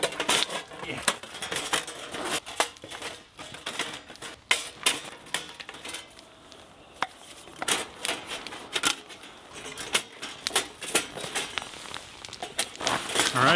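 Metal clinks, taps and rattles as a metal reflector oven is assembled with small pins outdoors in Alaskan snow and deep cold, a busy irregular run of light clicks and clatter close up, with faint talk in places.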